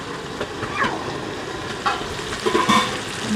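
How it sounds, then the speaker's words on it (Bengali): Carrots fry in a pan as part of a large-batch fried rice, a steady close sizzle with a few light stirring scrapes and clinks. "গাজর ভাজা হচ্ছে"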